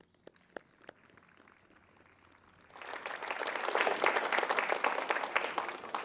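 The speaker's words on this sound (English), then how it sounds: "I think that deserves a round of applause." At a Memorial Day commemoration, a few scattered individual claps open, then a full audience joins in around the midpoint, building to a strong, sustained round of applause.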